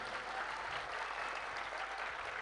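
Steady, dense applause from an audience at a devotional stage gathering in Lilapur, sustained evenly throughout at a moderate level with no voices standing out.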